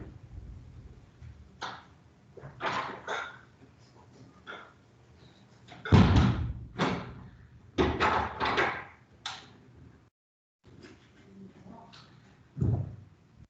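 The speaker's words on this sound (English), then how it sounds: "I'm closing the door." A door being closed indoors, heard as a series of knocks, bumps and a firmer thud amid handling noises, fairly close and moderately loud with brief quiet gaps.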